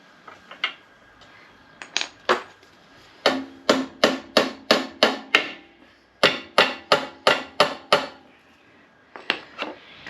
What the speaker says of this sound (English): couple of whacks just to straighten that up because it was a little bit bowed